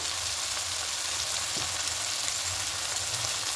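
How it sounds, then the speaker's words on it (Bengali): Ginger garlic paste sizzling hard in a pan with softened onion and tomato, a loud, dense, continuous frying hiss up close, with one brief clink of a utensil and no talk. "নরম এসছে টমেটো আর পেঁয়াজটা, এবার এখানে আদা রসুনের পেস্টটা দিয়ে দেবো।"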